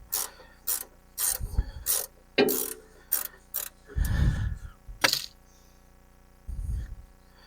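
A wrench tightens a bolt on a CAT D4 battery with a series of short clicking ratchet strokes and grinding scrapes in irregular bursts, close, with pauses between them and no talking.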